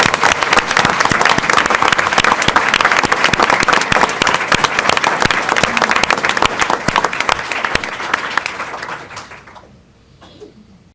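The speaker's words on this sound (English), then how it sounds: "may we give these ladies and gentlemen a great round of applause" Dense, loud applause from the audience at a 2017 school district PTA Reflections awards ceremony, steady for about eight seconds before tapering off and fading into near silence.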